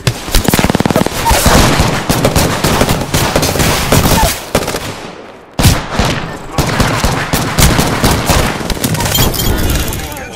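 Heavy video-game gunfire roars almost without a break, with rapid automatic bursts and explosive cracks, loud and close. It cuts out briefly near the middle, then resumes.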